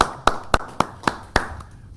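Six sharp, evenly spaced hand claps, close and distinct, at a council budget meeting for the budget team, sparse rather than a full ovation.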